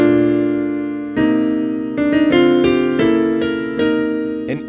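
Piano chords are struck several times in the middle and upper register, with no deep bass notes underneath.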